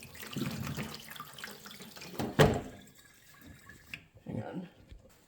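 Cherries being washed in water with baking soda make close splashing, sloshing and dripping with one sharp splash, while a person talks faintly in the background.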